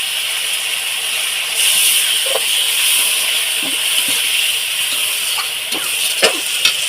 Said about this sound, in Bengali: এখানে আমি অল্প সামান্য জল দিয়ে দেব মশলাটা যাতে গায়ে না লেগে যায়